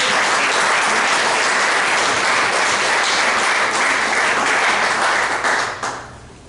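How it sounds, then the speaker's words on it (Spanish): A church congregation applauding loudly and steadily, a close, full roar of many hands clapping that holds for several seconds and then tapers off quickly at the end. "Denle un aplauso al Señor, hermano."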